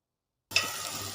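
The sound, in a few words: hot tempering poured into dal sizzling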